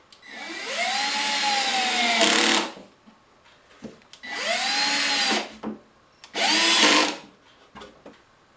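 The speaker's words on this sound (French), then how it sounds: "il ne me reste plus qu'à visser ma glissière en" A power drill drives screws to fix a drawer slide in place, running in three bursts of a few seconds each, loud and close, with its whine rising and falling as each screw seats.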